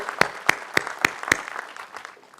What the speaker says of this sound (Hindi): नोनी के बारे में इनके जोरदार तालियां दिया जाए